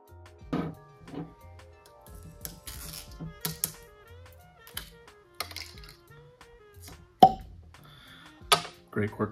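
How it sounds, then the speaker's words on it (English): Cork pulled from a bottle of E.H. Taylor Barrel Proof bourbon, a short hollow pop among faint handling taps and clinks, close and fairly quiet, with brief speech around it. "Great cork pop."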